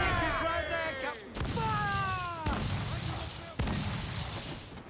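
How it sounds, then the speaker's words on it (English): Cannon fire from a pursuing ship's chase cannon during a naval battle in an Assassin's Creed game, with four sharp booming shots spaced about a second apart over a steady rumble, with descending whistling tones after the first shots. "I think you're supposed to hit the sails with the chase cannon"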